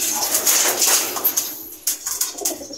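Birds call and coo in short bursts, with soft pigeon-like cooing amid a few fluttery, scratchy sounds close by.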